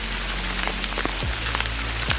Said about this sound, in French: Il grêle maintenant.